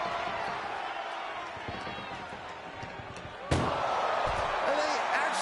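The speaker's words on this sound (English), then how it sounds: "Doing their best just to shut that first door." In the WWE 2K25 wrestling video game, an ambulance door slams shut with a single sharp metallic bang midway through, cutting through steady arena crowd noise and ongoing commentary.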